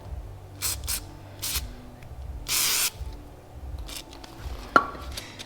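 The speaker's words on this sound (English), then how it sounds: "We're going to spray a bunch of liquid wrench onto both pieces to help give it a little bit of lubrication to go in" Liquid Wrench lubricant is sprayed onto Ferrari F430 transmission bushing parts in a garage, with a few short hissing bursts and one longer close spray, followed by a faint metallic clink.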